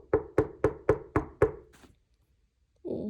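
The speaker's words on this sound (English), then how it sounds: "he kept hearing a strange knocking sound" Six evenly spaced, sharp wooden knocks ring out close and clear, then trail into silence before a short voice begins at the end.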